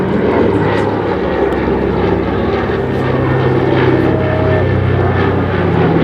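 A Catalina seaplane flies overhead at an airshow, its propeller engines droning loudly and continuously with a steady rumble that hardly changes over the seconds.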